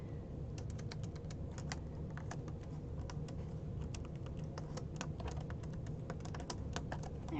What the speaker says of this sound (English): I'm just typing just a second.